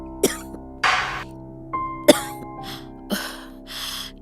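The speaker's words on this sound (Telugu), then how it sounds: "నీకు సడన్ గా ఎందుకు ఇంత దగ్గు వస్తుంది" Someone coughs repeatedly, about six short harsh bursts spaced irregularly, close and fairly loud against a quiet background.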